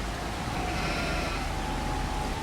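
Sheep bleat in the farming video game Farming Simulator 25, a sustained bleat over a dense steady background hum of game ambience.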